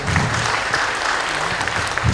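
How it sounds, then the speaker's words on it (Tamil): An audience gives a burst of loud, dense applause that carries on steadily without a break. "அதே மாதிரி ஐயாவும் அவர் கூட போன எல்லாருக்கும் ஒரு பெரிய கைத்தட்டல் கொடுங்க"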